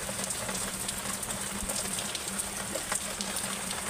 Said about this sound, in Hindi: धीमा धीमा तो बारिश हो रही है।